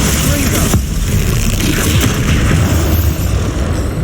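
Spell explosions from the video game Hogwarts Legacy boom repeatedly through dense, loud battle noise, with a sharp burst near the start and rumbling blasts layered under game effects.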